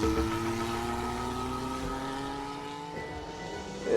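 Honda turbocharged Formula One engine in a Williams FW11 race car running with a steady, droning multi-harmonic roar and deep rumble, loud and close, holding a constant pitch with a slight swell at the end.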